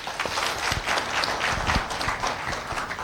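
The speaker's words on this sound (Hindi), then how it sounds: "ताली बनती है।" Audience applause at a team empowerment business event, dense overlapping claps from a crowd sustained steadily for a few seconds with no talk over it.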